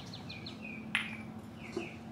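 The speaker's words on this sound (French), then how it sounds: "On a les oiseaux qui nous accompagnent ce matin." Morning birds chirp outdoors in short, thin tweets and a few longer whistled notes, one louder call standing out, all fairly faint and distant over a low steady background hum.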